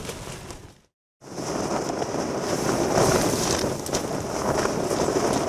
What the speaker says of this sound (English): It feels a lot windier than it is then.